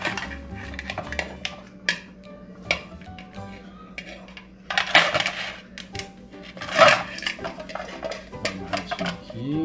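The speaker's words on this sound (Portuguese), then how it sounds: "Mais uma instalação sonora feita com chave" A key tied by a ring to a cooking pot clanks against the metal in scattered light metallic taps and jingles, some louder strikes midway, over a steady low hum.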